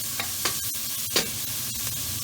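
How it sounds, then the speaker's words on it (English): Onions and chilies sautéing lightly in oil, a steady close sizzle with a few soft stirring scrapes and taps scattered through. "we just want to very lightly saute our onions and chilies, and just give them a bit of a brown colour"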